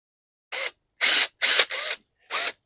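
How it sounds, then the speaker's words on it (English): Short bursts of a power drill boring holes in a hoop house frame, five quick separate whirs of varying length, close and fairly loud with silence between them. "I'll get these holes drilled"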